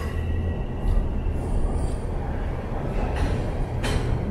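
Subway train at a Toronto station, a low continuous rumble and roar close by for several seconds with faint squeals of wheels on rail above it, no clear talking.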